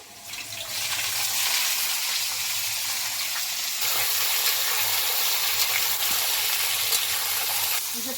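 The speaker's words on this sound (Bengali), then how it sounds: "কড়াই চলে এসছে আমি এবার আলুগুলো ভাজা করে নেব" A steady, dense hiss of potatoes frying in oil in a kadai fills the scene at close range, continuous and even, with a faint low hum underneath and no talk.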